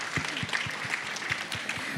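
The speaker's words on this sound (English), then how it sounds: "let's give everyone some applause." A panel audience claps at the end of a disclosure discussion, a moderate, fairly even patter of hands with a few sharper individual claps standing out near the front.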